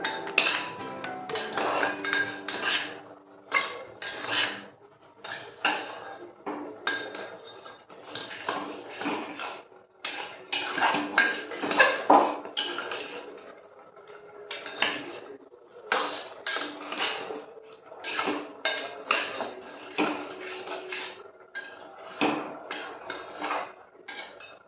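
Ground coriander and cinnamon are mixed in a pot for a mutton curry, heard as close, irregular bursts of metal spoon clinking and scraping against the pot, with short pauses between strokes and no talking.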